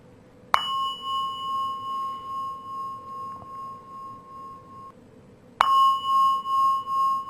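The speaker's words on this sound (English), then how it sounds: "I'll ring the bell again" A meditation bell is struck twice, several seconds apart. Each strike rings out clear and close, then hums on in a long, steady tone that slowly fades, over a quiet room.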